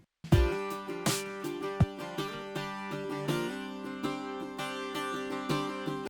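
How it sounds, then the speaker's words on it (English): A bright, plucked bouzouki plays a lively strummed and picked passage with ringing metallic tones and steady rhythm, close and clear, no voices. "This is the bouzouki."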